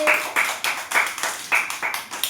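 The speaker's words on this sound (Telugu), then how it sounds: "సాత్విక్ క్లాప్స్ కొట్టండి" A group of children claps in a quick, uneven rhythm, about a dozen sharp claps close by with no talking.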